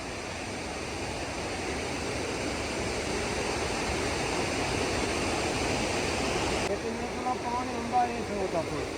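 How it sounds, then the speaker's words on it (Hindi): Glacier meltwater stream rushing past on a rainy mountain trail, a steady, dense broadband roar of flowing water close by that continues without pause, slightly thinning near the end. "यहाँ से तो ग्लेशियर का पानी आ रहा है ना।"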